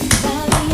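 Applause from an audience at a corporate anniversary event, two short bursts of clapping separated by a pause, moderately loud and close, with faint background noise between.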